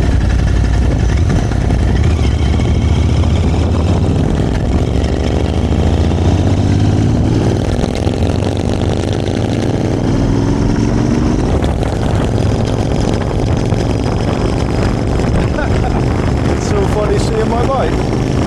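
A Royal Enfield Continental GT 650 belt-drive motorcycle engine runs steadily and loudly close by, a constant rumbling drone throughout.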